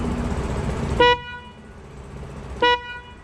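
An aftermarket MOCC horn on a Daelim Delino 100 scooter gives two loud, brassy blasts, each brief and close by, separated by a short pause over a low engine rumble.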